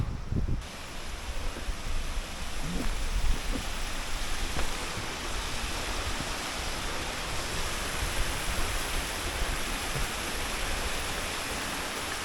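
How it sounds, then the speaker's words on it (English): Whorneyside Force waterfall in the hills: a steady, broadband rush of falling water fills the whole span, constant and fairly loud without pause, with no voices over it. "Well, I think this is the waterfall here. Whorneyside Force Waterfall."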